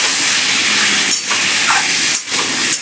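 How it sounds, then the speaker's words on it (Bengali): Meat coated in turmeric, salt, oil and ground cumin sizzles loudly in a hot pan while being sautéed. The close, steady hiss dips briefly twice, as if stirred. "সেটা সমেত এবার আমি এগুলো একসঙ্গে একটু কষিয়ে নেব"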